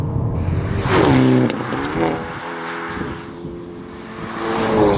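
A 2024 Hyundai i30 Sedan N runs on a race track. The engine surges loudly as it accelerates, rising in pitch through the gears, dips between shifts and then builds again, heard from inside the car.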